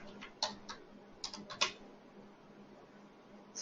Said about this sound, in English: I have typed this pretty fast.